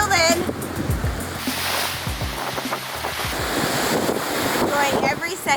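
Ocean waves wash onto the beach at Playa Flamingo, Costa Rica, in a steady roaring surf buffeted by heavy wind noise on the microphone, with speech mixed in.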